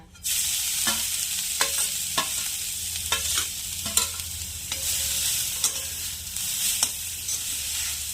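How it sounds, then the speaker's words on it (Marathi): Grated carrots sautéed in ghee for gajar halwa, a continuous close sizzle with repeated scraping and stirring strokes of the spoon throughout. "राहिलेल्या तुपामध्ये आपण आता किसलेले गाजर घालूया व याला छान परतून घेऊया"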